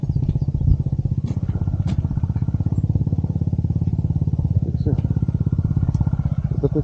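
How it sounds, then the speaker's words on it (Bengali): A motorcycle ridden slowly along an icy mountain road near Lachung and Zero Point, its engine putting out a steady, close, throbbing drone that stays even the whole way through. "অসুবিধা হবে বাইক চালাতে"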